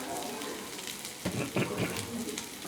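Ground cumin and coriander frying in hot oil for fish chorchori, a soft steady sizzle up close with a few brief stirring scrapes in the middle.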